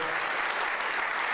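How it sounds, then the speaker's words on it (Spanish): A forum audience applauds a speaker at the end of a talk: dense, steady clapping from many hands fills the room evenly throughout, with no voices standing out above it. "Un aplauso."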